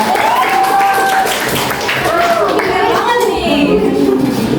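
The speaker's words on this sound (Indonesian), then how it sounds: "Kasih tepuk tangan dulu dong." A classroom audience claps for a student group presentation on a culture festival, scattered clapping blending with overlapping chatter and voices of young people, fairly close and loud.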